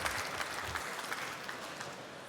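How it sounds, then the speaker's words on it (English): Trade fair audience claps for a presenter at a start-up award session, a dense steady round of applause that fades slightly toward the end. "Big applause, Tim."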